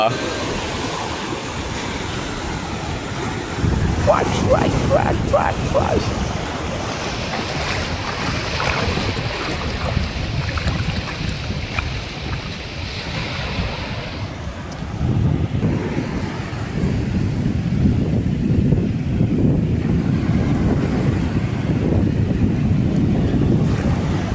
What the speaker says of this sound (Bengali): আমার কাছে ঢেউয়ের শব্দটা কঠিন লাগে, অসাধারণ